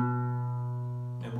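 An oud's fourth and fifth strings plucked together and left ringing as one steady sustained tone that fades slightly, with a soft noisy touch near the end.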